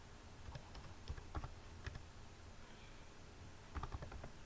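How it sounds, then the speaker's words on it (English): Faint keyboard typing comes through as a few scattered key taps, then a short quick burst, all quiet beneath a steady hiss of background noise. "let me just type"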